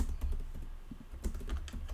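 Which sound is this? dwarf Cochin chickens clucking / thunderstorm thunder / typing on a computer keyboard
typing on a computer keyboard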